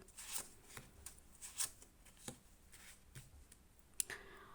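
Tarot cards are shuffled and handled in short, soft riffles and snaps, with scattered papery bursts spaced irregularly and quiet in between.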